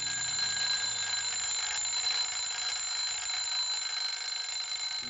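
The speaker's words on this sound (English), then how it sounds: "he wakes up in the morning to the sound of his alarm ringing" An alarm clock rings in a bedroom in the morning in the 1960s spy film The Ipcress File, a steady continuous bell ringing that runs unbroken and loud from start to finish.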